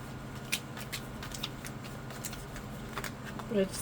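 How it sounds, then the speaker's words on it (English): Quiet riffling and soft slaps of cards being shuffled, with a few sharper flicks and faint background noise, close by. "Let's get all this shuffling done here."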